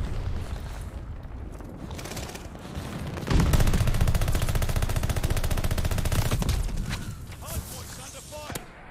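The Automaton gun in Call of Duty: Vanguard fires a sustained rapid automatic burst, dense and loud for a few seconds, with quieter shots and game sounds before and after.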